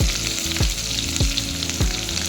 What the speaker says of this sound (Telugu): వేసి కొంచెం వేయించాలి అవి వేగిన తర్వాత ఉల్లిపాయలు